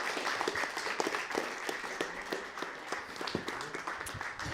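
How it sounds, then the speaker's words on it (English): Applause from a live audience at a Burns Night 2025 gathering at the Chapel FM venue, as a storyteller is welcomed onstage: steady, fairly distant clapping with a dense crackle of many hands, continuing throughout without a break. "So Vicki, for a round of applause for Vicki, and as she makes her way up."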